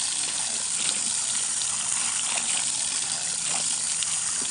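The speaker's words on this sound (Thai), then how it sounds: "เราก็จะมาใช้น้ำเย็นฉีดล้าง ลดอุณหภูมินะคะ" Cold water sprays steadily over boiled Mae Klong mackerel to cool it, a continuous broadband hiss and gush of running water with no pauses and no talking.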